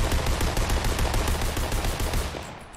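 Continuous rapid gunfire in a video game, a loud dense automatic rattle that runs without pause and eases slightly at the very end, no talking.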